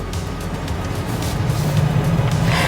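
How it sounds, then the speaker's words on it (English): Inside the cabin of a 2024 Honda Ridgeline TrailSport on the move, a steady low rumble of tire and road noise builds slightly louder toward the end. "I can hear a very slight increase in the cabin noise from the tires"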